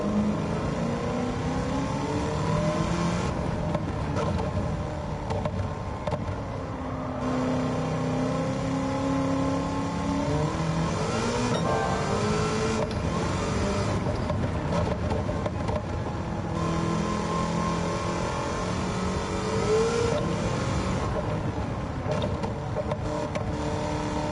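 An engine-swapped DeLorean in Gran Turismo 7 accelerates hard in the wrong gear, its engine roaring steadily at high revs and rising and falling in pitch for the whole stretch, loud and close with no pauses.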